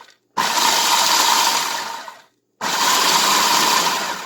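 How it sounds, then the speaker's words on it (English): A food processor whirs loudly as it chops pecans in a home kitchen, running in two steady bursts separated by a short silent pause. "we need to get our food processor out and put about 3/4 cups of pecans. And we're going to process them"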